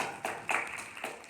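A few scattered, hollow claps ring out at a Republic Day poetry gathering as an audience welcomes a poet, sparse and fairly quiet with a roomy echo.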